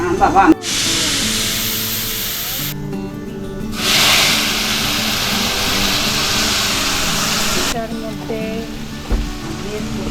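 Hilsa fish cooks in plenty of mustard oil, a loud steady hiss and sizzle that surges and fades in patches, while people talk over it throughout.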